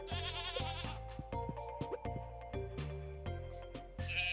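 A goat in a farming video game bleats after being petted, a few wavering bleats sounding out clearly over steady background game music.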